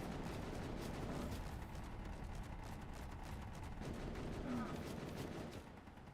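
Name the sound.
turrets firing in video game Space Engineers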